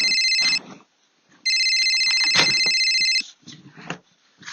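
Electronic phone ringtone with a bright, repeating multi-tone melody, sounding in two loud bursts of roughly half a second and two seconds separated by a gap, with faint movement and rustling sounds in between.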